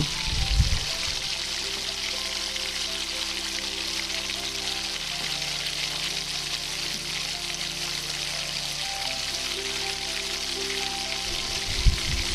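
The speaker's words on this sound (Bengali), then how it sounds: "এবার আমি কেটে রাখা আলুগুলো এক এক করে ভেজে নেব" Potatoes fry in oil in a pan, a steady close sizzle with a hissing spatter running the whole time, faint background hum, no talk.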